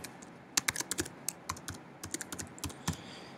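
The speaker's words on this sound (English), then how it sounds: "I type in my email address here." Quick, irregular clicks of a computer keyboard as an email address is typed, close up and soft, with short pauses between bursts of keystrokes and no voices.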